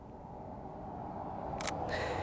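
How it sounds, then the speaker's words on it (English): Sony E-mount camera with a Meike 50mm f/2 lens fires its shutter once, a short mechanical click near the end followed by a softer second snap, close and crisp over a quiet background hum. "I'm going to go ahead and take a picture of the flower right here"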